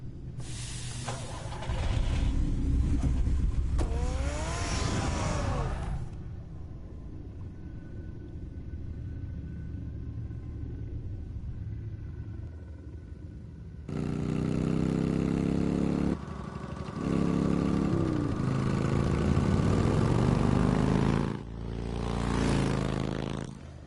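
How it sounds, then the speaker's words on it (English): Batmobile from the Batman Telltale game rumbling in mid-range engine bursts, idling in between, with a low steady drone and hiss underneath; loud surges at the start and again near the end. "Get the car ready, Alfred."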